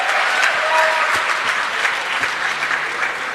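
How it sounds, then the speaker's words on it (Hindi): An audience gives loud, continuous applause for a leader named Vikas Yadav, a thick, even roar of clapping hands throughout. "मिस्टर विकास यादव सर के जोरदार तालियां होनी चाहिए"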